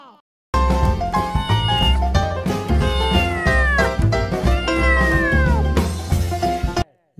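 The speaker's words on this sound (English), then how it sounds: "C for cat." A cat meows repeatedly, loud and close, with drawn-out rising and falling cries following one another over several seconds.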